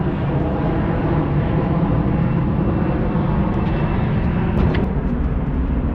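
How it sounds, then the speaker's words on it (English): An airplane passes overhead near the Erie Canalway Trail in Rochester, upstate New York, a steady broad roar filling the whole stretch at constant loudness, with no talk over it. "Interrupted by an airplane."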